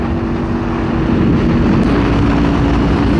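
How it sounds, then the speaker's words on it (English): A 2024 Kawasaki Ninja 500 motorcycle engine runs steadily while riding, a loud continuous drone with a strong low hum that holds from start to finish, with no talk over it. "I still think it sounds like a dirt bike, but it sounds good."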